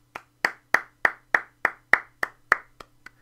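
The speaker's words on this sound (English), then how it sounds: "I'm going to give you guys a round of applause." Ten sharp hand claps in a steady, even rhythm, close and distinct, with no voices.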